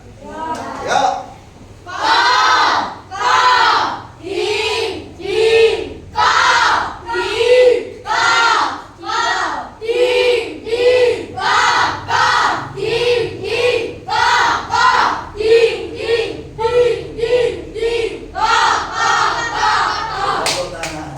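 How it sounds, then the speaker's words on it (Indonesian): A group of children shout and cheer together in loud, rhythmic bursts that repeat steadily, like chanted calls answering a leader in a classroom. "saya ingin mendengarkan suara anak-anak, semangatnya"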